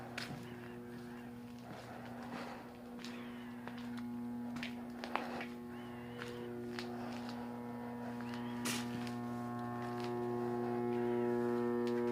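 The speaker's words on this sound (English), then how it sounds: "Definitely this plant still got electricity. A humming sound is heard from somewhere." Steady electrical hum inside an abandoned plant that may serve as a substation, a continuous low drone with tonal bands that lasts throughout, mid-level, with faint scattered rustles and no talk.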